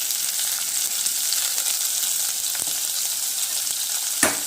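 A tempering of dried red chilli, curry leaves, crushed garlic and asafoetida frying in hot oil, a steady loud sizzle up close, broken near the end by a single sharp clank of utensil on pan.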